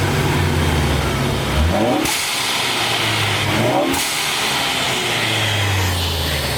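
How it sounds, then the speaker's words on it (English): A loud Ford ST engine with a blow-off valve revs repeatedly, climbing and dropping in pitch with sharp bursts between, close by and continuous throughout. "give you guys some last revs"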